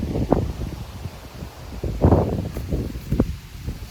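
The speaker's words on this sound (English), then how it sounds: "Man, just look at the trees blowing. That wind is cranking." Strong wind gusts rush through trees around a campsite with a truck and cabin, surging and fading in uneven waves of rustling with a couple of louder swells.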